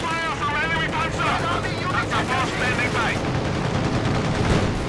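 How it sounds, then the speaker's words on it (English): A Soviet air strafing run in the video game Company of Heroes 2 brings rapid machine-gun fire and rumbling battle noise, sustained and loud beneath animated talk from a commentator. "Strafing run here. The Soviet Air Force is on the job."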